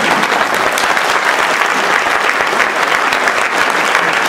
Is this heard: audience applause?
yes